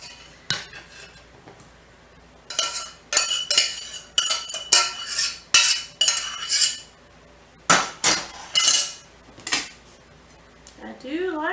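Metal utensil scraping and clinking against a pan while Brussels sprouts are cut, arriving in rapid close bursts of sharp clatter with brief pauses, and a voice joins near the end.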